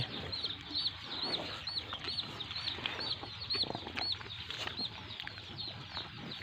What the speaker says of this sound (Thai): พอได้ยินเสียงลูกไก่ครับมันร้องเคี้ยกเคี้ยกเคี้ยก